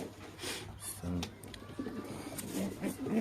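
Pigeons held for shipping give faint, low coos beneath someone talking nearby, with handling noises and rustling around the birds.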